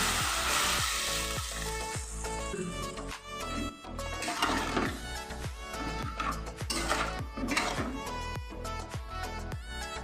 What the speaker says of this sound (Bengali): ভালো করে আমার কষানো হয়ে গেছে এখন আমি পরিমাণ মতো জল দিয়ে দেবো